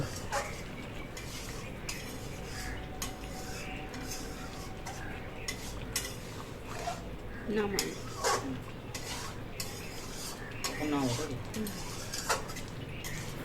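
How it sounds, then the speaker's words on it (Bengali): A spatula stirring a spicy pointed gourd and shrimp curry in a pan over lowered heat, giving soft repeated scrapes and clinks of metal on the pan, close and fairly quiet, with faint voices in the background. "এখন এটাকে খুব সুন্দর করে নাড়িয়ে নেব"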